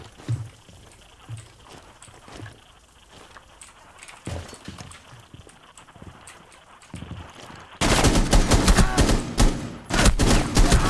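Rainbow Six Siege gameplay gunfire: scattered shots and faint movement at first, then a loud, rapid sustained burst of automatic fire over the last few seconds.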